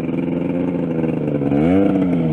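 Yamaha snowmobile engine fitted to a go-kart revs hard and close, a loud buzzing drone that climbs in pitch near the end, with no talk over it.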